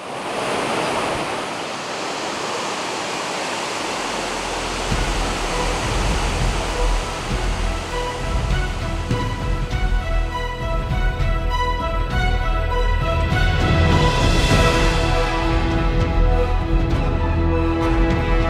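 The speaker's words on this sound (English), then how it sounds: "Its spectacular veil of water crashes into a perfect turquoise bath that continues to the other falls that we just witnessed." El Chiflon's Bridal Veil Falls in Mexico pours into a turquoise pool, a continuous loud rushing roar of crashing water that grows fuller and stays close, with no voices.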